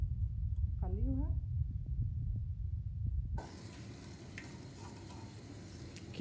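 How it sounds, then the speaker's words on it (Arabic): Mloukhia fries in oil in a pan on a gas stove, sizzling and crackling steadily, at first under a low hum and a brief whistle-like tone, then as a bright hissing fry. "حطيت على الغاز نقليوها"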